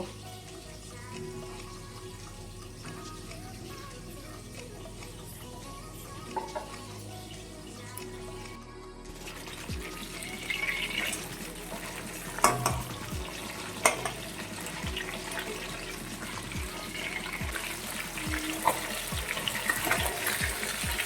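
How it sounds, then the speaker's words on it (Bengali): Fish sizzles while frying in hot oil in a pan, a steady crackling hiss that grows busier and louder partway through, with occasional sharp pops and utensil knocks. "মাছটাকে ভালোভাবে ভাজা হয়ে গেছে"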